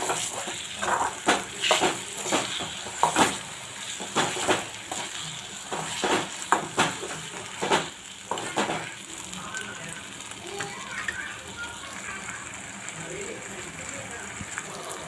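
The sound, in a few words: mashed roasted eggplant (bharit) being sautéed and stirred in a pan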